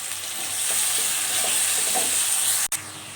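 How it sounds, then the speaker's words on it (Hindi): Garlic, ginger and green chili paste fries with onions for a beef pulao, a steady close sizzle with light spoon scrapes and a sharp clack near the end, no talking. "अब हम इसमें लहसुन अदरक और हरी मिर्चों का पेस्ट जो है वो ऐड कर देंगे और अच्छी तरह से मिक्स करेंगे और भूनेंगे"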